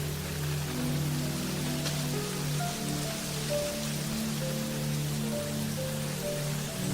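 Steady rain pours and patters on surfaces in an even, dense hiss that never lets up, with faint low tones droning underneath and no voices.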